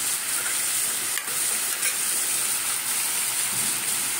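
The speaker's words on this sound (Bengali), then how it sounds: "যে তেলে সুন্দর করে ভেজে নিচ্ছি আমি" Chicken for lemon chicken fries in oil with a constant, fairly close sizzle, and a couple of faint pops break through the hiss.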